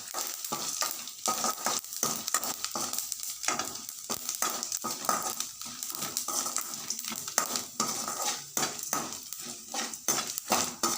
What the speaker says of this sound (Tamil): இப்போது கடுகு, உளுத்தம்பருப்பு, கடலைப்பருப்பு, வரமிளகாய் எல்லாத்தையும் போட்டு தாளிக்கணும்